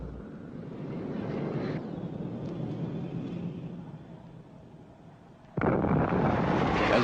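Deep, rumbling blasts from a Phantom jet air strike on a military target area roll continuously at a distance, with a sudden louder surge of roaring detonation near the end.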